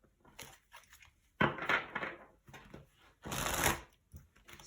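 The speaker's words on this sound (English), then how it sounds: "I'm just giving the deck a really good shuffle," Bursts of riffling and soft slapping as a deck of tarot cards is shuffled close by, in a few uneven rounds with quiet gaps between.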